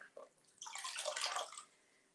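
Water sloshing and splashing in a bucket of clear water, a swelling wash of splashes that lasts about a second, close and moderately loud, then fades away.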